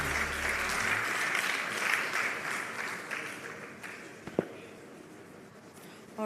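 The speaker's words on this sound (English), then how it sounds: "A round of applause for Mr." Audience applause for an award recipient at the Africa Retail Congress 2023, a steady wash of clapping across the room that tapers slightly toward the end, with a brief louder clap near the close.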